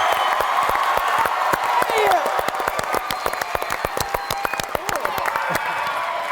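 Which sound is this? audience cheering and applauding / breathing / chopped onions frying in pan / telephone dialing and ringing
audience cheering and applauding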